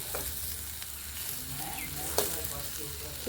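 Soybean, potato and raw banana fry in a pan with a steady, close sizzle, punctuated by a few brief stirring clinks and scrapes against the pan.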